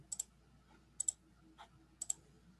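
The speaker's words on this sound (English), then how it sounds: "I'm going to click submit" A computer mouse clicks on a submit button, heard as three quick, faint double clicks spaced about a second apart, near and alone.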